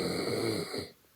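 A person snores in one drawn-out, rumbling breath that then trails off into near quiet, close by and moderately soft.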